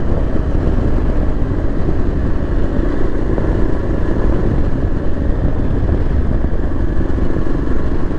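A Yezdi Adventure motorcycle engine runs in fifth gear at low road speed, a loud, steady, rumbling drone with constant mechanical clatter throughout and no talking.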